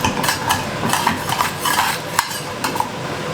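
A heavy pan on a stove clinking and scraping against metal utensils, a close, busy clatter of cookware with small knocks and rattles, no voices.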